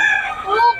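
A rooster crows once in Bocaue, a loud drawn-out call that rises and wavers before cutting off, heard up close.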